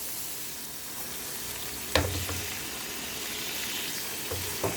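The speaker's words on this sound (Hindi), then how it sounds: "अब हम इसमें ऐड करते हैं लहसुन अदरक का पेस्ट" Garlic-ginger paste sizzles steadily in a hot frying pan for a kheema matar curry, with a couple of sharp spatula clinks over the continuous hiss.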